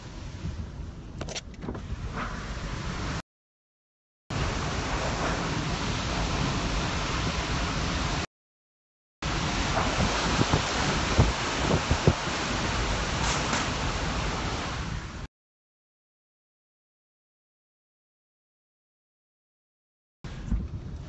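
Hurricane winds roar as a loud, dense, continuous rush through a live storm, with possible thunder. The roar is broken by abrupt silent gaps and a long dropout near the end, and no voices are heard.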